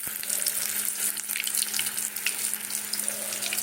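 Chili fritters (lanka chop) fry in oil over a low gas flame, a soft, continuous sizzle and crackle with a faint steady hum beneath, heard close and alone.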